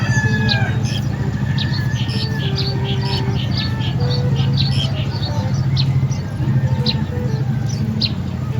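Rooster crowing repeatedly at a chicken coop, loud and close, with other fowl clucking and insects buzzing steadily in the background throughout.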